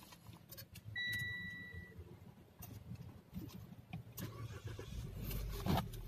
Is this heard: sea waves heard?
no